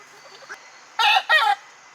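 Chickens at close range give a couple of loud, abrupt clucking calls in quick succession, preceded by fainter soft sounds from the flock.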